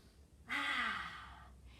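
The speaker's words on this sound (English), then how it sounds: "take deep breaths" A single deep breath drawn in sharply and let out in a long, soft sigh, close and quiet, alone after a brief silence.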